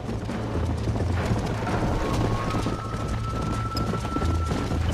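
A horse gallops in the video game Red Dead Redemption, a steady stream of clip-clop hoofbeats running through the whole stretch over a dense outdoor bed, with no talking.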